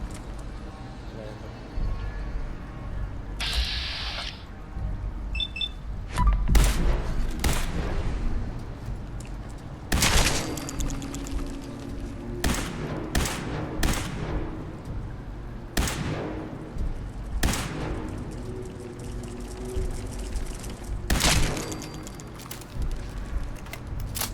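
Cannon fire in the video game Fallout 4, a series of sharp booming blasts at irregular intervals, mixed with game noise and someone talking over it.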